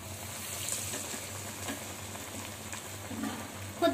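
Vada (garelu) batter frying in hot oil: a steady, even sizzle that carries on without pause, moderately close, with no speech over it.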